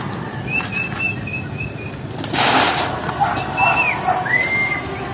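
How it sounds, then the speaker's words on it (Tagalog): Pigeons in a loft flutter their wings in a burst near the middle while thin whistled calls sound around them, with people talking nearby. "ang dami mo na kalapati"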